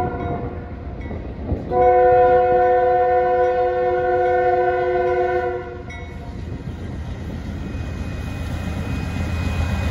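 Freight train X363 starts up in cold weather and sounds a long, loud multi-tone horn blast for about four seconds, then a steady rumbling engine roar builds as it moves off.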